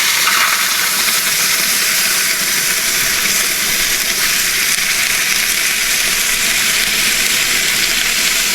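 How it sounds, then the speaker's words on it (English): Hot water poured into the water reservoir of a slow-and-sear smoker grill for brisket, a steady continuous hissing splash that stays loud and even throughout with no talking. "I'm going to pour some hot water in this water reservoir."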